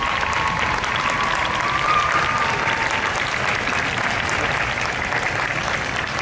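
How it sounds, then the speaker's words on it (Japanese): Sustained, dense audience applause after a high school wind band's outdoor concert performance at a Ginza street festival, steady and continuous with no talk over it. "今一度盛大な拍手をお送りください。"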